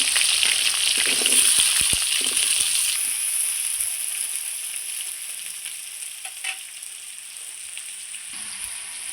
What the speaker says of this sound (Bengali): কড়াইয়ে সরষের তেল দিয়ে দিচ্ছি। এবার আলুটা ভেজে নেব। আলুগুলো ছেড়ে দেবো এখন।